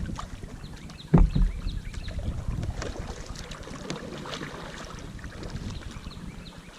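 Canoe paddle strokes in water during long boat maneuvering, with a sharp splash-thump near the start and then steady soft water swishes and drips under light wind, no speech.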